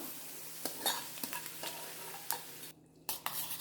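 Sautéed onions being stirred into beaten eggs for an onion omelette, a run of soft scraping and clinking mixing strokes in a bowl with a faint sizzle in the background, close and fairly quiet.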